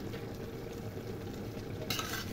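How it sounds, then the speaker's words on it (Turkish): Tomato and pepper sauce bubbling in a pot, a dense, steady low simmering burble, quiet and close, with a brief brighter scrape near the end. "Kaynamaya başladı malzemelerimiz"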